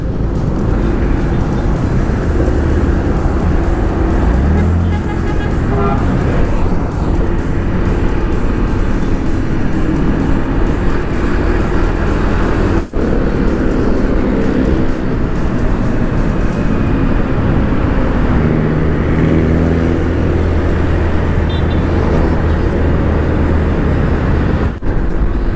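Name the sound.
traffic on Sumulong Highway, Tanay, Rizal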